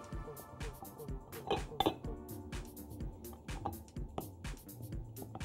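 Chunks of chocolate dropped into a glass Pyrex bowl in a home kitchen, giving a quick series of light clinks and taps that are close and fairly quiet, with a few sharper knocks partway through.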